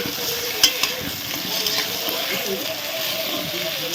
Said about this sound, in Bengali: এখানে আলুটা ভাজছি লাল লাল করে